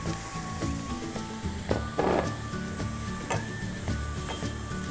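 Broccoli going into a hot pan of noodle soup with mushrooms, giving a steady sizzle and light ticking crackle, with a brief louder hiss as it lands.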